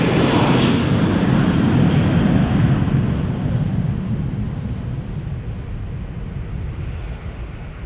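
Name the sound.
Airbus A380 taking off at Amsterdam Schiphol airport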